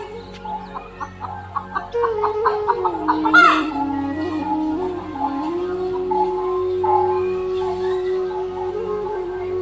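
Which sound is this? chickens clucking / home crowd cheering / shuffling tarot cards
chickens clucking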